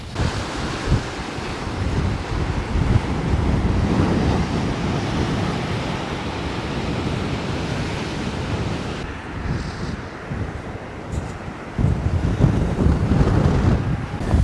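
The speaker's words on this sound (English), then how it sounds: "It is so windy up here." Strong wind buffets the microphone in a loud, continuous roar on dunes above a beach, with surf washing in the background and gusts surging near the end.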